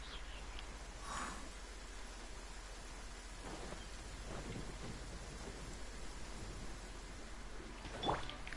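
A thunderstorm in the video game Genshin Impact: steady hissing rain with distant rolling thunder rumbles and a sharper crack near the end.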